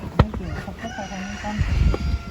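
Chickens cluck and a rooster calls in short irregular bursts at a Turkish home kitchen setting, mid-distance, with household noise and some voices in the background.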